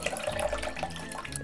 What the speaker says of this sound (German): Damit der Inhalt nicht ganz verschwendet ist, schütten wir das Wasser auch noch in die Bowle.